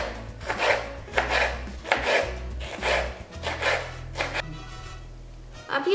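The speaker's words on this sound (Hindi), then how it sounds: "अब ये सारे लाल मिर्च को मैंने काट लिया है।" Knife chopping red chillies into chunks on a board, a run of quick irregular chops in bursts, close and moderately loud, with no talking.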